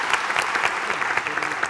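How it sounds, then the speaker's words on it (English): A brief, dense round of applause from an audience at an executive talk, steady and crowded clapping with little else. "ladies and gentlemen, give her a round of applause."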